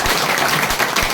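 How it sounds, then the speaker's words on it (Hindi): Brief, loud burst of audience applause at an education seminar, dense clapping filling the entire short moment without talk. "एक जोरदार तालियां आपके लिए"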